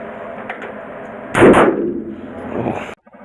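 A Taurus Raging Bull .454 Casull revolver fires one heavy, booming shot that rings out and decays over about a second and a half, then cuts off abruptly.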